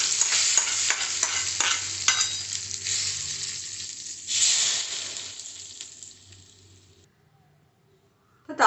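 Hot tempering poured over brinjal and tomato chutney with the stove switched off, sizzling loudly and crackling steadily for several seconds, then fading to silence before a brief clatter at the end.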